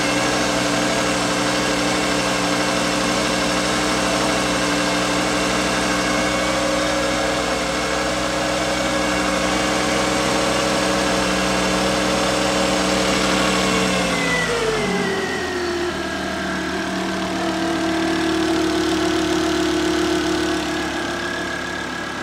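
A Volvo S40 T5 engine idles steadily and close by after an engine swap, a rough continuous hum that dips in pitch briefly before settling again.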